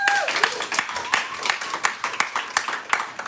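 A small audience at a live poetry reading in Bushwick claps for the speaker's sister, with scattered, uneven hand claps and some talk mixed in.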